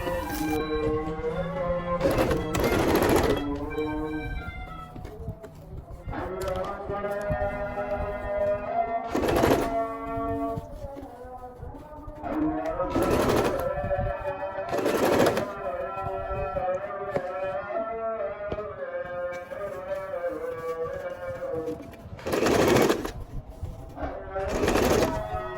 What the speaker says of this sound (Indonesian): Lalu ini kita jahit, pastikan bahan utama ini tidak terjahit.